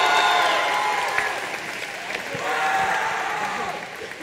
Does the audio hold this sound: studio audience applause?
yes